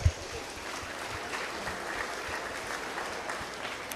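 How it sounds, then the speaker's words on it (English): Crowd applause for youth exhibitors at a beef cattle showmanship class, a steady even patter of clapping in a hall lasting throughout, starting with a sharp clap burst and staying moderately loud with no talk. "Let's give these exhibitors a round of applause."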